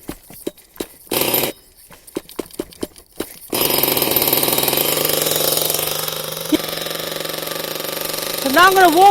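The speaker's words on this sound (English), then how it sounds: "So now I'm going to warm up the engine first." A nitro RC car engine bursts into a loud, continuous buzzing run after several short starter pulls, holding a steady high-pitched drone close by, with brief revs near the end.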